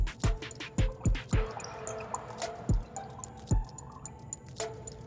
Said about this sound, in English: we're just going to open up this bottle and go ahead and pour the whole thing in